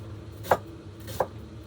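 Two sharp knife chops on a cutting board as a vegetable is diced, spaced about 0.7 seconds apart, fairly close and alone over a low room hum.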